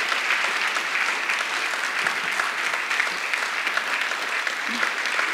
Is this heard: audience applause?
yes